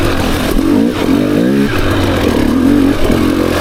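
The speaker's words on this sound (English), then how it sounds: "the Beta is crisper off the crack of the throttle" A 2024 Beta 300 RR Race Edition two-stroke dirt bike on a single track ride, engine loud and close, revving up and down through several throttle blips with rising and falling pitch.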